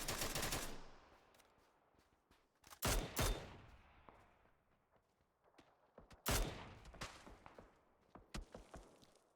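Video game battle gunfire in a competitive league match: several loud bursts of rapid automatic fire and single shots arrive in clusters, separated by quieter gaps and echoing tails.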